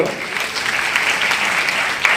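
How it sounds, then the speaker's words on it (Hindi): A crowd claps loudly and steadily for Mr. Champat Madavi at a leaders and achievers gathering, a dense, continuous wash of many hands with no break. "सबसे पहले वो इंसान के लिए जोरदार ताली होनी चाहिए, मिस्टर चंपत मडावी सर"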